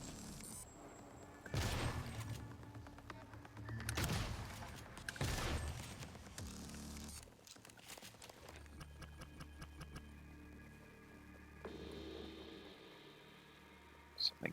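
Enemy gunfire in the video game Prey, heard as several loud bursts of shots early on, then quieter clattering and mechanical sounds with low game ambience.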